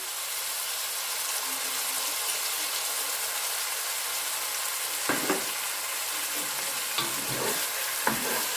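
Chicken sears in a hot pan with a steady, close sizzle that fills the whole stretch, joined near the end by a few soft clinks and taps.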